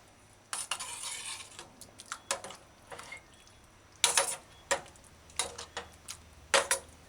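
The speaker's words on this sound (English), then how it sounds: "Stir this fish, baked beans, stew gently." A pot of fish and baked beans stew being stirred gently, with irregular scraping and clinking strokes of a utensil against the pot, close and distinct, separated by short quiet gaps and with no talking.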